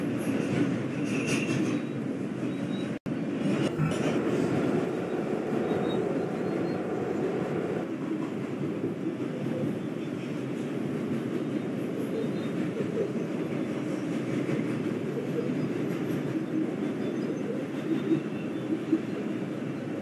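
A New York 5 subway train, an R142, rumbles steadily along the tracks, a loud continuous roar with rattling cars and a brief sharp click partway through.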